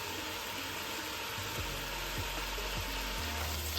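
Vegetables fry in a pan with mustard and mixed herbs, a steady soft sizzle with a few light stirring knocks, fairly quiet and with no one talking.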